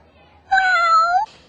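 A cat lets out one loud, drawn-out meow lasting under a second, close and clear against near silence.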